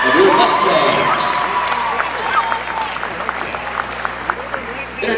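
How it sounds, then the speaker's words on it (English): Gym crowd at a high school girls' game applauding and cheering for the team manager, loud dense clapping and shouts that gradually thin out over several seconds. "One more round of applause for Logan Spence, your manager of your Mustangs."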